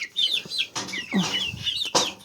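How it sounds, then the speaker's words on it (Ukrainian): Chickens, large hens, cluck and squawk close by in a short, busy burst of overlapping calls. "Це курячі динозаври, які вреднючі."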